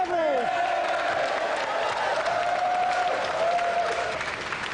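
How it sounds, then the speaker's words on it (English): Studio audience on a Gamesmaster TV game show applauds its champion, steady dense clapping throughout with a host's voice and tonal music or whistles riding over it. "a round of applause again for our champion, John Beverly."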